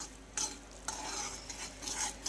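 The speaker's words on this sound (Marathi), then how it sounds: "याने सुद्धा चव अप्रतिम येते आणि छान असं मिक्स करून घ्यायचं आहे।" Tamarind and jaggery chutney with red chili powder being stirred in a pan, soft scraping strokes repeating every half second or so over a steady faint sizzle, close and quiet with no talking.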